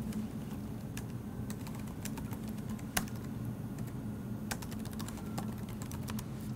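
Steady typing on a computer keyboard, a string of light, quick clicks in uneven bursts with one sharper tap, heard fairly close over a low background hum, with no voices.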